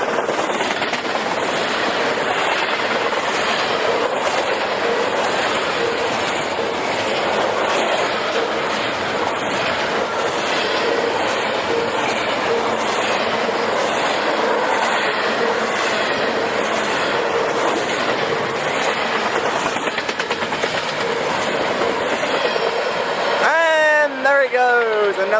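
A short intermodal freight train rolls past close by in a loud, steady roar of wheels and rail clatter, and its horn sounds near the very end.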